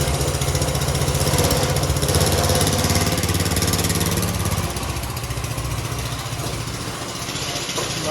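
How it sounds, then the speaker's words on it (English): A go-kart engine runs steadily nearby, a loud buzzing small-engine drone that drops slightly in pitch and level partway through, with no voices. "I think it's about time to actually go rip the go-kart."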